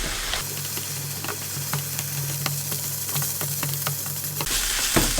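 Beef fried rice with butter sizzles steadily in a hot pan while a utensil scrapes and stirs it with scattered clicks, close up and without talk.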